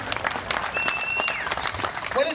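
Audience at a Riders USA Second Amendment celebration cheering and clapping, dense sustained applause with scattered whoops and whistles, a voice talking over it.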